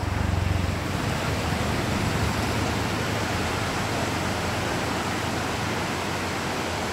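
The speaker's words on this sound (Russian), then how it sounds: "Ой, вот и водопад." A mountain waterfall pours in a steady, broadband rush of falling water that sounds near and fairly loud, an even roar without breaks and with no voices.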